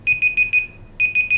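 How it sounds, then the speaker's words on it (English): A cell phone alarm goes off nearby, a bright electronic beep repeating in short rapid bursts, four pulses, a brief pause, then three more, loud and alone with no talk. "And that would be my cell phone alarm"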